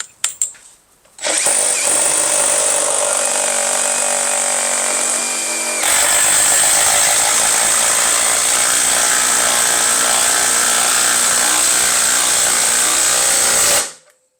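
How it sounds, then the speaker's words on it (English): A Makita 18V brushless impact driver sinks a 3/8 by 4-inch lag screw with a 9/16 socket, giving a loud, steady, continuous whine and hammering rattle that pitches up partway through and runs for about thirteen seconds before stopping abruptly. "we'll go and show you the impact in use"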